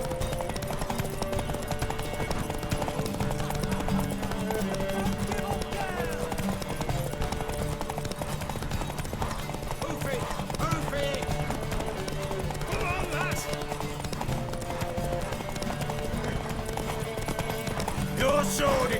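Rhythmic hoofbeats of a horse galloping in The Witcher 3: Wild Hunt, steady and fairly close, layered under music and game sounds with voices talking over them.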